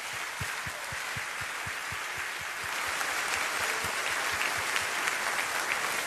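A church congregation claps in praise, first in a steady rhythmic beat and then in a denser, sustained applause that fills the room at a constant level.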